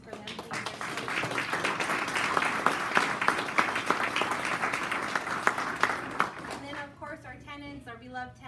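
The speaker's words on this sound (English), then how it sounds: "just a quick round of applause for them, please" An audience applauds restaurant staff in a steady, dense round of clapping that carries on for several seconds before tapering off, with a voice starting to speak as it fades.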